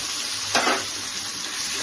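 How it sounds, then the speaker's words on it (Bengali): Onion paste dropped into a hot frying pan for a Bengali tangra fish jhal curry, giving a short, bright burst of sizzling over a steady background hiss, close and alone without talk. "এখন আমি পেঁয়াজ পেস্টটা দিয়ে দিচ্ছি"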